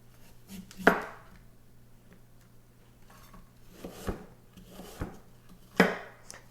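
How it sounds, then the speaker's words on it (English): A knife chops apples on a cutting board in a handful of sharp, separate knocks spaced a second or so apart, close and clear in an otherwise quiet kitchen. "I'll show you how fine we'll chop them up."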